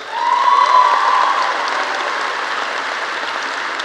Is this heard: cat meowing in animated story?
no